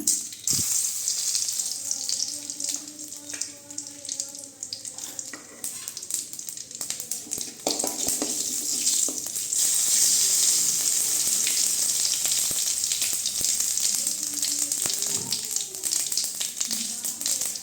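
Mustard seeds and fennel seeds frying in hot oil for an avarakkai (broad bean) thokku, giving a steady close sizzle with scattered crackles and pops across the whole stretch, with light stirring and no talk.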